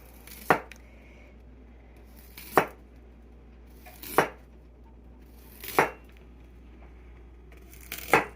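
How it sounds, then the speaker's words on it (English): Five sharp, evenly spaced knife chops through carrots strike a cutting board about every second and a half, crisp and close against near silence. "So we are chopping the carrots."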